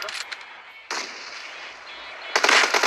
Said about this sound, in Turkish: Bak buradan düşman vurdum.